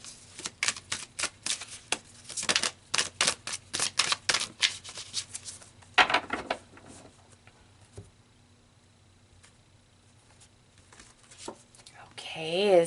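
Tarot cards riffle and shuffle in quick, close bursts of papery flicks, then slow to a few soft slides and taps as a card is drawn, with a faint voice near the end.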